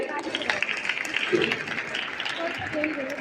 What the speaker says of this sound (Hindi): उनके लिए जरा जो उत्तर बढ़िया से आते हैं आप लोग तालियां बजाते रहें।